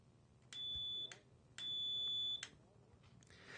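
Two sustained high electronic buzzes from a homemade ice-fishing tip-up alarm, the second a little longer, each cutting off sharply, with quiet room noise between and after.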